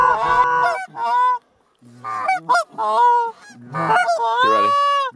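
Canada geese honk repeatedly from a flock near a hunting blind, loud, overlapping calls in several bursts with a short pause in the middle.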